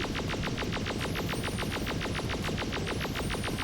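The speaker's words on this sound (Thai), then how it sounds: "มันก็เลยเปลี่ยนเสียงปืนไป" Rapid, evenly spaced electronic gunshots fire continuously like a machine gun in an online fish-shooting mobile game, loud and unbroken over a dense game soundscape.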